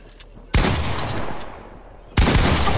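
Gunfire in the video game Fortnite: two loud, sharp shots about a second and a half apart, each followed by a sustained noisy tail, with no voices over them.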